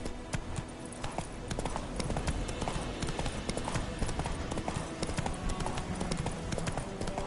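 Hooves of the horse Roach galloping in a PS4 video game, a fast continuous clip-clop rhythm, loud and close under a dense game soundscape, with speech faintly mixed in.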